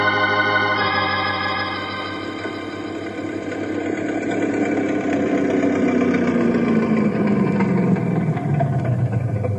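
A steady motorboat engine drone holds throughout, its pitch sliding down slowly as it fades a little, loud and close with no voices.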